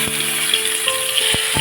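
Masala and cumin seeds sizzle in hot oil in a kadhai for brinjal curry, a steady close hiss punctuated by a few sharp spoon knocks.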